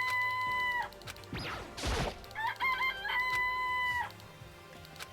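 Chickens in the Danganronpa video game: a rooster crows twice in long drawn-out calls, with clucking and a sharp burst of commotion between them, loud and close, with no voices.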